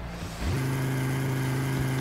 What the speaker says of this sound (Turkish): Bu araçta Audi'nin 5 silindir makinesi var arkadaşlar.